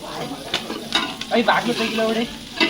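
Curry leaves drop into hot ghee in a pan and fry with a crackling sizzle, joined by a spoon stirring and scraping against the pan, all close and moderately loud.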